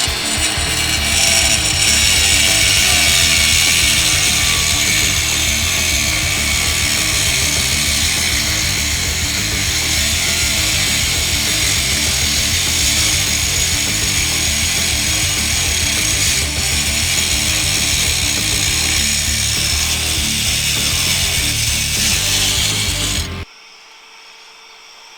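A Bosch X-LOCK GWX 18V-15 SC cordless disc grinder cuts about 25 mm deep into material, a loud, steady, strained grinding whine running for over twenty seconds before stopping abruptly.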